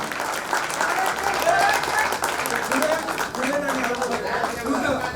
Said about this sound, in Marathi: सगळ्यांनी टाळ्या जोरात वाजवा